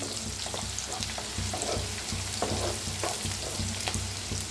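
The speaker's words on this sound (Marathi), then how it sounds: "तर कांदा छान असा भाजून घेऊया। थोडंसं तेल जास्तच ओतलंय" Onion frying in plenty of oil with cumin in a pan, a continuous close sizzle with soft stirring knocks at a fairly regular pace.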